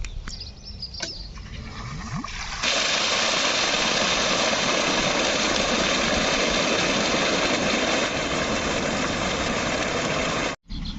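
A farm water pump motor starts up and runs loudly and steadily, a constant droning engine hum that fills the scene for several seconds.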